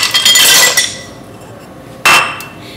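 Ice cubes clatter into a blender jar for a greenberry Shakeology shake with almond milk: a loud cluster of clinking hits, then a quieter pause and one more sharp clatter near the end.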